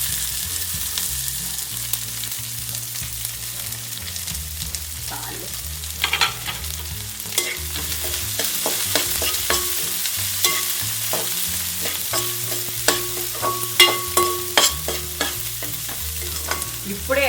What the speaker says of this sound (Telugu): ఈ ఏగిపోయిన దాంట్లో మనం ఇందాక మిగిలిచి పెట్టుకున్న ఉల్లిపాయలు వేసేసుకుందాం.